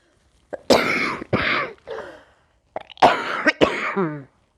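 A series of harsh coughs in two bursts, close and loud, separated by a short pause, with a final rasping throat-clearing rattle.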